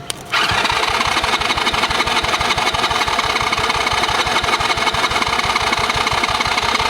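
An old kids' quad that had sat for years fires on fuel poured into the carburetor, then runs at a steady rough idle. The engine is loud and close, with a rapid even putter and no talk over it.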